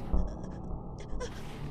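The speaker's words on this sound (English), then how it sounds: "she's breathing in my ear" Close, breathy gasps and panting, like someone breathing right into the ear, come in short rhythmic bursts during a horror POV story, fairly faint.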